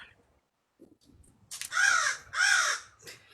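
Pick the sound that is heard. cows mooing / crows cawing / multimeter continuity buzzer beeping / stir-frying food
crows cawing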